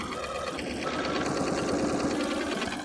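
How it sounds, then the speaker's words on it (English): A sewing machine stitches through a fabric potholder with a fast, even mechanical whir and rapid needle ticking, close and steady throughout. "I'm just going to go ahead and sew through these now."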